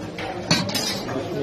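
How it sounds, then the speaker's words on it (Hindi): Restaurant dishes being uncovered and handled at a table in Islamabad, with one brief clatter of dishware near the midpoint over low room noise and a murmur of voices. "तो अब आपको ओपन करके दिखाता हूँ एक एक डिश को"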